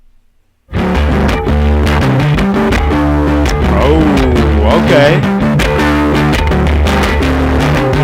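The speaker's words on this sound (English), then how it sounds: "A lot of distortion on that" Radiohead's Body Snatchers plays loud and heavily distorted, a dense wall of fuzzed guitars, bass and drums kicking in abruptly after a brief voice and continuing throughout.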